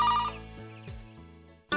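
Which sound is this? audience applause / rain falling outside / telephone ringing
telephone ringing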